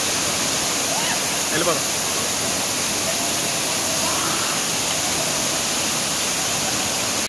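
Gandahati waterfall in Gajapati district, Odisha, pours in a constant dense roar of rushing water, loud and unbroken, while a voice speaks briefly and faintly over it.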